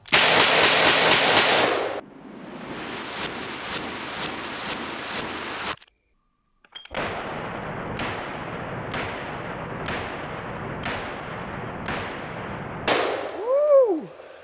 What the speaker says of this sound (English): And last, the 8-inch barrel .44 Magnum.